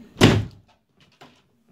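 A door slams shut once, loud and close in a room, followed by a fainter knock or thud a moment later.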